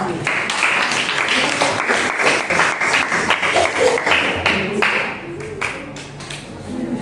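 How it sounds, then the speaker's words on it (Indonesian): A classroom of students claps together in a brisk, loud burst of many hands, sharp and close, which tapers off after about five seconds as the room quiets and a voice is heard. "Oke, tepuk tangan untuk konvensional."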